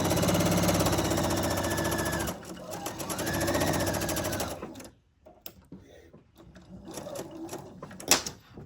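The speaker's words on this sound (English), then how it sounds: "I'm going to sew on the diagonal edge a 1/4 inch seam" A sewing machine runs a quarter-inch seam along the diagonal edge of fabric triangles, a dense, steady mechanical whir for a few seconds that then stops, leaving quiet handling noises.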